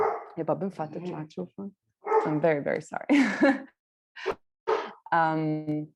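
A dog barks intermittently nearby, its short barks mixed in with a person talking steadily in the foreground.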